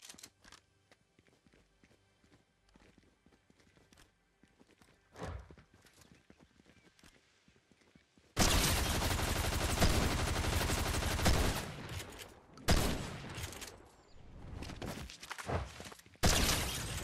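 Gunfire in a no-build round of the video game Fortnite, loud dense bursts of rapid shots breaking in after a quiet stretch and recurring in several blasts, with clip-clop-like footsteps faintly heard earlier.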